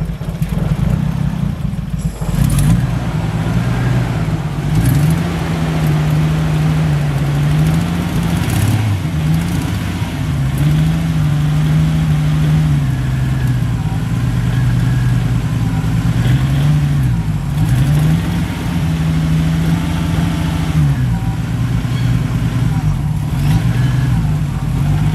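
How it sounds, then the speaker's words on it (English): Car engine running at a steady idle close by, its low drone wavering slightly in pitch with a brief clunk near the start and faint background noise. "it starts over the first crank"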